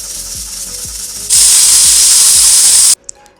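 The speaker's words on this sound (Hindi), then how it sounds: "प्याज, लहसुन, अदरक और सब कुछ प्रेशर कुकर में डाल के बस प्रेशर लगा दिया" Pressure cooker holding onion, garlic and ginger, giving several rapid rattling clicks before a loud, steady steam hiss that runs over a second and then cuts off abruptly.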